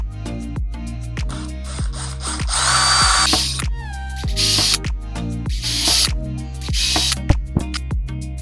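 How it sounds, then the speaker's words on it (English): Hand drill boring a small pilot hole during a door installation, heard close and fairly loud as a rhythmic run of cranking clicks mixed with short whirring bursts of the bit cutting. "drill a little pilot hole"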